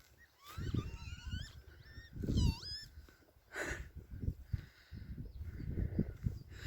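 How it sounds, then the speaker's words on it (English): Faint honking and squawking bird calls rise in bursts over wind-like rumble, several birds calling back and forth at a moderate distance in fog in the wilderness. "It's these birds."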